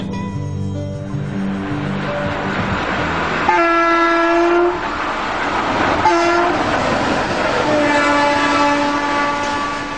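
A freight train in Spain rumbles past with clattering wheels, and its horn sounds several times in long, loud blasts.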